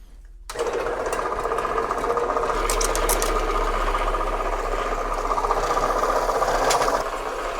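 A bandsaw with an added weight for extra feed pressure cuts metal stock beside a shaper, starting abruptly after a moment and then running as a steady, close mechanical whirring drone with a fine rhythmic buzz.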